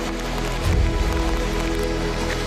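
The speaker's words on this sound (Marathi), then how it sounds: "आणि पाऊस तर खूपच आहे वरून, एकदम जोरात पाऊस येतो" Heavy rain falls steadily through dense jungle in the Andharban forest, a loud continuous patter on leaves and ground with a brief surge of heavier thuds near the start.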